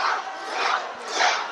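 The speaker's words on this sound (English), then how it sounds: "The crowd coming to life here" A wrestling crowd cheers and roars in rising and falling swells, loud and full, with no single voice standing out.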